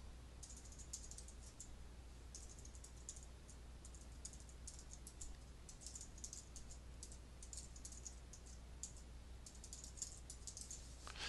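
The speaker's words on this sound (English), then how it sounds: "Here I can type my username and password" Faint, quick clicking of computer keyboard keys as a username and password are typed, irregular bursts of light taps over a low steady hum.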